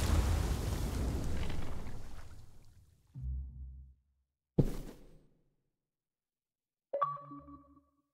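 A bomb detonates in The Walking Dead: The Final Season, a heavy roaring blast that fades out, followed by sharp percussive hits and a final resonant boom ringing into silence.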